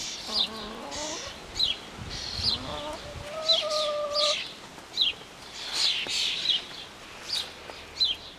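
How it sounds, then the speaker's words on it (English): Hens in an extended garden enclosure cluck and call softly at moderate distance, with short repeated clucks and a few longer drawn-out calls spread across a quiet background. "Here's the hens."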